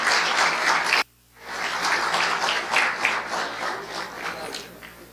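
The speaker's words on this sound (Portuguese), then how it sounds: "Uma salva de palmas para eles." An audience at a lecture on drowning at Unisul in Palhoça claps steadily; the applause breaks off abruptly after a second, then resumes and gradually fades, with faint voices mixed in.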